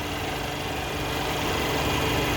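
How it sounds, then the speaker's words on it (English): A 2019 Mercedes-Benz A220 4MATIC with a 2-liter turbocharged inline four-cylinder idles steadily, giving a continuous low engine hum with no one talking. "The engine is a 2-liter turbocharged inline 4-cylinder."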